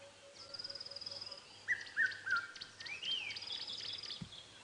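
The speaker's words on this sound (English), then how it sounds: "That's the beautiful Cape turtle dove or ringneck dove." A Cape turtle dove, or ringneck dove, calling close by at sunrise in the African bush, a few rising calls standing out over a soft insect chorus, with faint other birds around it.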